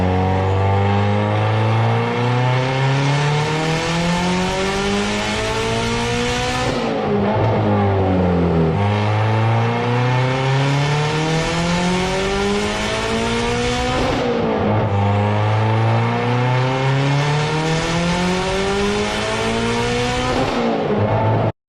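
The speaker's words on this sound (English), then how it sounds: "Here's an Evo 10 on a dyno with it equipped, and it sounds pretty good." A Mitsubishi Evo 10 fitted with a MAP Performance tubular manifold runs hard on a dyno, its engine revving up through the gears in long rising sweeps, dropping briefly at each shift, loud and close throughout.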